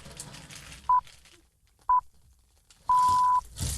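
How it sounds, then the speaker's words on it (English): Three electronic radio broadcast beeps near one pitch: two short tones about a second apart, then a longer held tone, with quiet background noise between. "Try and get past the beeps."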